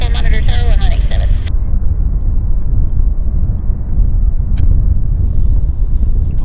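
A jet airliner landing at Vancouver YVR airport, heard as a loud steady low roar and rumble with wind buffeting, a brief radio-like chatter at the start.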